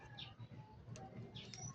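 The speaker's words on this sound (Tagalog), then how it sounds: "Yan ang mga kalapati ko." Pet pigeons coo softly in a low, repeating rhythm, with faint chirps and a rustle of wings, close by and without talk.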